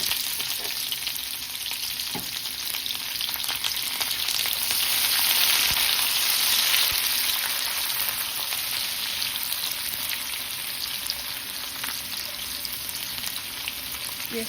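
Sliced onion fries in hot oil with cardamom pods, cinnamon pieces and bay leaves, a steady, dense sizzle running continuously with occasional faint stirring taps, no voices.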